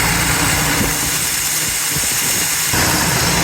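A 1960 GMC truck engine idles steadily and loudly with a rough, low rumble and vibration. The tone shifts slightly near the end. No one speaks.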